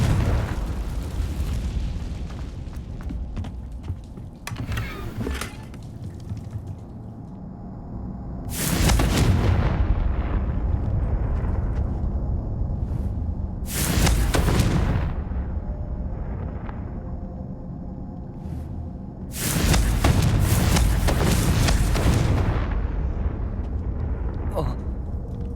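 Confringo fire-spell blasts in the video game Hogwarts Legacy, several loud booming explosions bursting at intervals over a rumbling battle background, with a voice talking between them.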